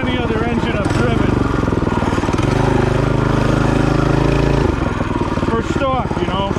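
MM212Pro mini bike engine running loud and close at steady throttle, its buzzy harmonic drone rising and holding through the middle before dropping back, with voices talking over it.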